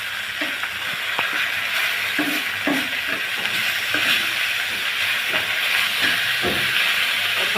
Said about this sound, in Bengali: গরম হলে আমি এক এক করে মাছটি দিয়ে দেব। মাছগুলো ভেজে নেব।